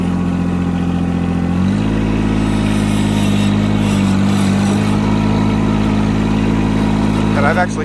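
A John Deere 318 garden tractor with foot-controlled hydrostatic drive runs loudly up close, its engine a steady droning hum with harmonic tones that shift slightly as the speed changes.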